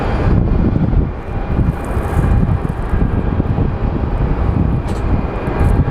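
A United Boeing 737 airliner taxis toward an airport gate, its engines giving a steady, loud broadband roar with low rumble, wind buffeting the microphone throughout and no talk.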